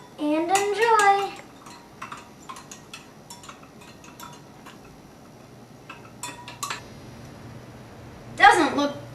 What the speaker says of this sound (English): Stir it up and enjoy.